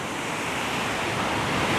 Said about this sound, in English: This waterfall is stunning